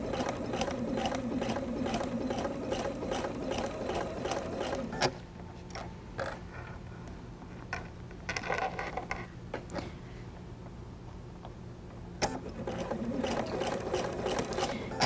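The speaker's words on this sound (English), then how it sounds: "Slow down when you sew over the pins." A sewing machine stitches quilt fabric in steady rapid runs, pausing in the middle and then resuming, close and fairly loud with a mechanical rattle.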